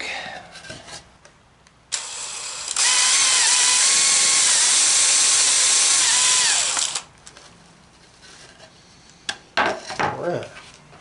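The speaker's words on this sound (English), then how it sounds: "pre-drill and countersink" A power drill whirs at high speed for several seconds, pre-drilling and countersinking, its pitch dipping as it bites, with a shorter burst before and scraping handling noises after.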